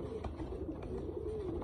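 A large breeder pigeon coos softly and steadily in a series of low, rolling calls, faint and close with no talking over it.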